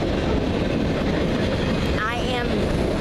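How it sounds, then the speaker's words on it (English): A train passes at a small-town station, a loud, continuous rumble and rushing roar filling the whole span, with a faint high wavering squeal rising near the end. "I am videotaping a train."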